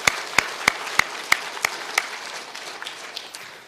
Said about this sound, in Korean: 우리 다시 한번 호산나 찬양대 격려의 박수 한번 하실까요?